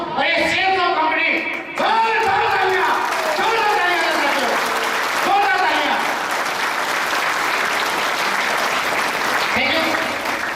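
A seminar audience at a Safe Shop success event in Kamrej, Surat breaks into loud, sustained applause that builds after someone speaks briefly at the start and then fills the room steadily.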